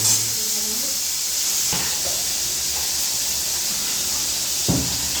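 Small golda prawns fry in hot oil in a pan, giving a steady, loud hiss that runs through the whole clip with a couple of brief sharper crackles. No one speaks.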